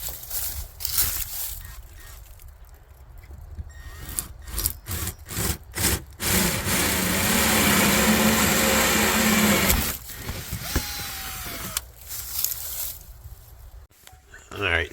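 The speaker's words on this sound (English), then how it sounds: "So I'm gonna go ahead and drill my hole here" A power drill bores a hole through a house wall for a natural gas pipe to a Generac generator. Short stop-start bursts build into about four seconds of loud, sustained grinding, then more intermittent bursts follow.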